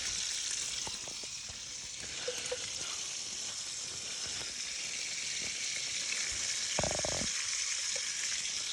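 Bacon frying in a pan at a campsite, a steady high crackling sizzle throughout with a few brief clanks of utensils against the pan.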